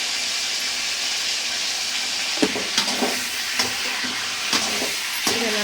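Spatula scraping and stirring liver fry with turmeric powder and salt in a pan, a steady sizzle underneath with several sharp clinks and scrapes spaced a second or so apart, close and moderately loud.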